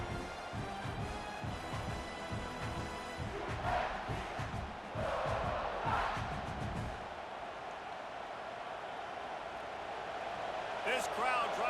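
Stadium crowd at an Alabama Crimson Tide vs South Carolina Gamecocks college football game, a loud continuous roar that swells and surges in waves, with a commentator talking over it throughout.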